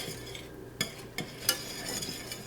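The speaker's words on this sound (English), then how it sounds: "Okay, so now I'm just going to give it a stir." A spoon stirs butter into a pot of grits with a few distinct clinks against the pot over a soft, quiet background bubbling, close and faint.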